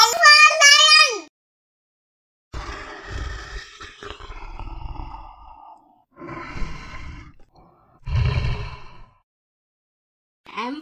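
A lion's roar in an alphabet phonics song for children. A short melodic tone opens, then a long, loud, rumbling roar with gasping breaths, followed by two more separate roaring bursts and a brief final sound.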